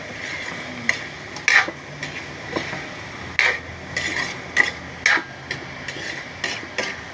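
Broccoli, cauliflower and carrots stir-fry with pork in a pan, making a constant sizzle broken by repeated scraping and clanking strokes of a utensil against the pan at an irregular pace, loud and close.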